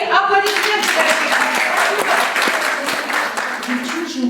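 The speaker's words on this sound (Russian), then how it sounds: "Раиса Зарби, аплодисменты." An audience at a Chuvash culture day event in Nalchik breaks into loud, steady clapping that holds throughout, with a voice briefly audible over it near the start and end.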